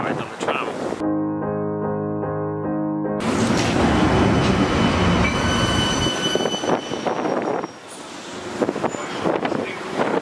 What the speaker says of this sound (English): We are going to try and catch one of those red, or maybe red, trams and get the ride on the tram.